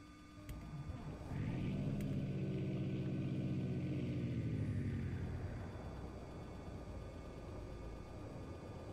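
An aircraft engine starts in the X-Plane 11 flight simulator, with a low whirring hum that catches and rises into a loud, steady droning run before easing to a lower idle.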